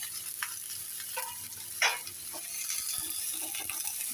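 Chopped papaya, potato, fig, taro, green banana, eggplant and long beans sizzle in a wok while being stirred, with scraping strokes and a louder clank near two seconds over a constant frying hiss.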